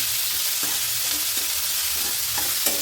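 Ingredients sautéing in a pan for a traditional Karnataka basaru curry, a steady loud sizzle with soft stirring scrapes and occasional clinks of a utensil, no voices.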